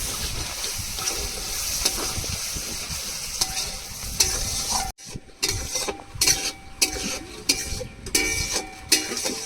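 Whisked sour yogurt is added to a pan of fish curry, setting off a steady sizzle and frying crackle, with a sudden burst and stirring scrapes as it hits the hot oil.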